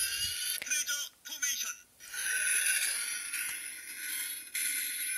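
Power Rangers Treasure Force Treasure Gun toy emitting a tinny, bright electronic sound from its small speaker after being rolled on the floor, with a few clicks and rattles at the start, then a steady buzzy burst lasting several seconds.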